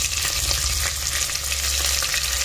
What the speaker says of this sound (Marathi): चांगला आपण परतून घेऊया